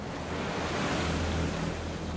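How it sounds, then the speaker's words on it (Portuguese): Storm-driven ocean surf roars continuously at sea, a dense, steady wash of breaking waves mixed with wind buffeting against the microphone, loud and unbroken throughout. "Eu só lembro daquele som das ondas."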